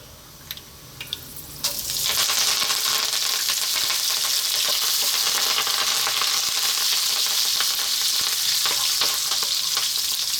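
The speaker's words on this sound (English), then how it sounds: "drop in our fresh curry leaves, which sometimes can be very noisy" A few light taps, then a sudden loud sizzle as fresh curry leaves hit hot oil, crackling and hissing steadily close up.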